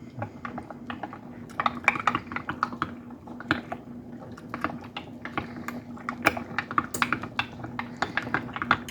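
A spoon clinks and scrapes in a bowl as two heaping tablespoons of cornstarch are stirred into half and half, a quick, irregular run of light taps and clicks, close and fairly quiet.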